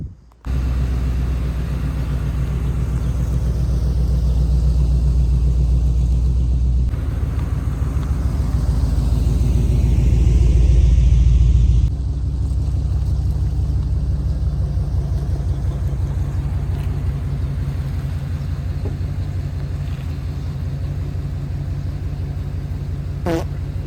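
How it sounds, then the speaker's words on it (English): A 1991 Chevrolet C1500 pickup truck's engine rumbles steadily and low as the truck is moved, swelling slightly partway through and continuing without any talk. "now that we got the truck moved to a better location"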